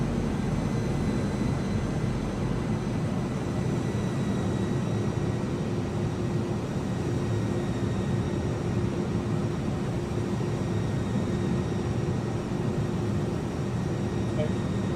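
The engines of an Airbus A300-600R in a flight simulator give a steady, broad roar with a faint high whine. The sound holds at a constant level for fifteen seconds, and no one speaks.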